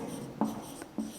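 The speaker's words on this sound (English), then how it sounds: "So we are going to write" Chalk or marker writing on a classroom board, with a few short scratchy strokes spaced across a quiet, close background.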